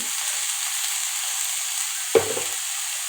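Vegetables seasoned with salt and turmeric fry in a little oil, a steady close hiss broken once by a single scrape of a spoon stirring the pan.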